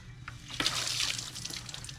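Kitchen tap running while vegetables are washed before cooking, water trickling and splashing steadily, swelling midway as the food goes under the stream, close and alone.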